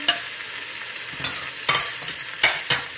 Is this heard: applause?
no